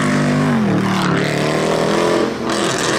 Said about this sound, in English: For example, a V8 can sound like this in a C63